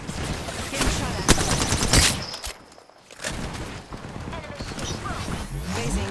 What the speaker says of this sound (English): Getting shot at.